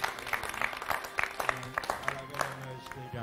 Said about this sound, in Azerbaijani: Alqış istəyirəm sizdən Ulduz xanım üçün.